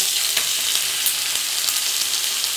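Ginger, garlic, cumin and coriander paste with tomato paste frying in a pan for chicken-stuffed pointed gourd, giving a steady, close hiss with a few small stirring scrapes and no voices.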